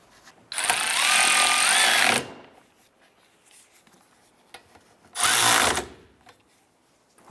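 A power tool tightens the wiper arm nuts on a 2011–2019 Ford Fiesta in two loud, close whirring bursts, the first about one and a half seconds long and the second shorter, with quiet between them.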